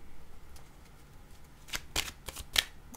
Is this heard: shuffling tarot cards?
yes